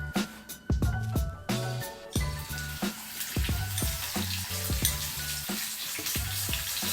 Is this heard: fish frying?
yes